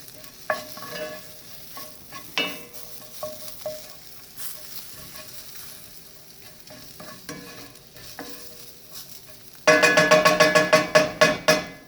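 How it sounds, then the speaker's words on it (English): Chicken of the woods mushrooms toasting in oil in a pan, soft sizzle with scattered pops and scraping stirs, then a sudden loud burst of crackling frying with rapid repeated pops near the end. "So just let them toast and they'll begin to sort of pop around in there"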